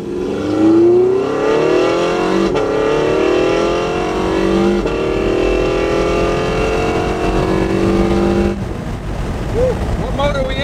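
A Porsche 918 Spyder hypercar engine revs and climbs in pitch, a loud, rising mechanical whine with stepped gear-like changes, then drops to a lower warbling hum near the end, with voices talking over it.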